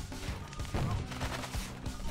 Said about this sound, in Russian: Ракетница получше стала стрелять. Да, выстреливает, смотри, махом.